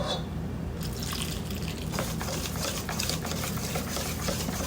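Egg, self-rising flour, cornstarch and water being stirred into a batter in a bowl, a steady wet, sloshing mix that runs continuously throughout without talk.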